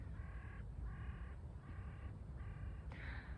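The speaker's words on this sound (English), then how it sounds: "I only heard the crows." Four harsh, harmonic crow caws repeat at a steady pace, each about half a second long, with a faint fifth call at the end, all over a low, rumbling outdoor background with no talking.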